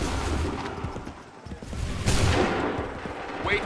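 A line of muskets fires on command in Assassin's Creed 3, a series of close gunshot volleys and crackling reports that rise and fall over a background of battlefield commotion, with one sharp burst about halfway through.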